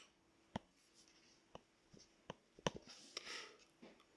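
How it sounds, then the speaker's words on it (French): A pen writes on paper during a maths exercise, with quiet, sparse taps and short scratchy strokes that thicken into a brief run of scribbling near the end, close and faint with no speech. "Je vais écrire."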